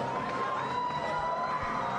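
A sold-out boxing crowd inside the Belasco Theater in downtown Los Angeles roars in a steady wash of cheering and murmur, with a faint sustained tone running through it.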